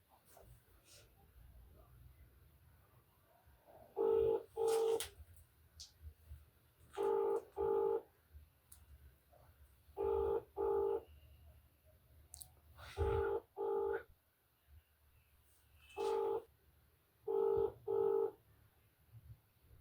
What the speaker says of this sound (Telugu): సరే రమేష్ అన్న ఎంఆర్ఓ గారు ఫోన్ లిఫ్ట్ చేస్తలేరు